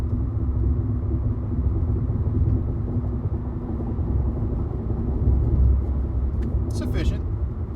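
A Nissan Leaf electric car accelerates hard at full throttle, its steady road rumble and motor drone continuous throughout, with a brief higher-pitched whine near the end.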